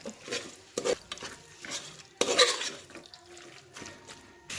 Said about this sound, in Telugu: మసాలాలో చికెన్ వేసి బాగా కలుపుకోవాలి.